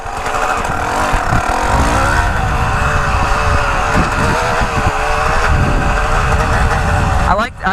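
A Yamaha TTR125 dirt bike engine running at idle, a loud steady close-up drone with a low uneven rumble that lasts almost the whole time before briefly dipping at the end.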